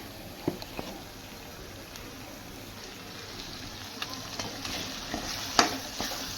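Andhra-style chicken fry is stir-fried with ground masala, a steady close sizzle punctuated by scattered sharp clicks and scrapes of a spoon against the pan.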